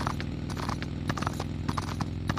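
Horse hooves from a video game clop in a steady, quick rhythm over a dense background of game sound, with no voices.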